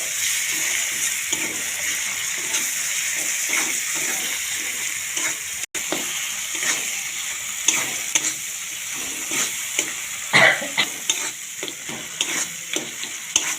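Chopped tomatoes and salt hit a hot frying pan, setting off a loud, continuous sizzle and hiss with spoon scrapes and stirring knocks throughout, close and without speech.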